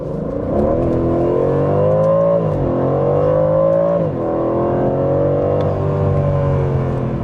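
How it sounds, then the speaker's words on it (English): An Aston Martin Vantage engine is held on the brake and revved, then accelerates away; the exhaust rises and falls through several loud, close pitch sweeps, and no voice is heard. "Foot on the brake, give me some gas, build it up, and let's go."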